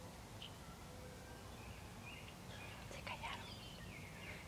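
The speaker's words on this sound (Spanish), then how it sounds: "Escucha a los pájaros." Birds chirp intermittently outside a house in the afternoon, faint and distant calls scattered over a steady low background hum, with a brief cluster of brighter tweets midway.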